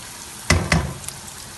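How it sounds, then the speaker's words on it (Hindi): Onions for Bihari dum qeema fry in a pan. Two quick stirring scrapes and thumps rise over a faint background sizzle, close by and brief, with no voices. "देखते रहें जब यह फ्राई होते हैं।"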